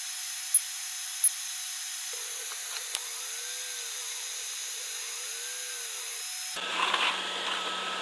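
An Atomstack A20 Pro laser cutting a one-inch circle in 3mm plywood: a steady high whine with soft fan hiss, faint tonal sweeps as the head moves, a few sharp clicks, then a brief burst of crackly noise at the end.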